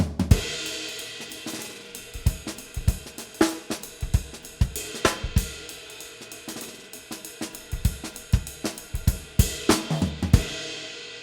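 Jazz drum fill played in eighth notes across snare, rack tom and floor tom, a loose run of sharp hits with cymbal wash ringing over them, close and fairly loud with no talking.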